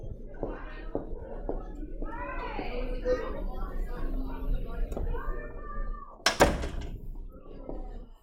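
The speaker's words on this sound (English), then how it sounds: "I want to like just shut this door" A classroom door is pushed shut with a single loud, sharp thud near the end. Before it, a teacher talks steadily over a busy room with a cat meowing.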